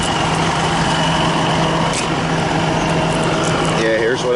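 A tractor trailer truck rumbles steadily and close by with a loud, constant low engine drone and road noise, a voice speaking briefly near the end.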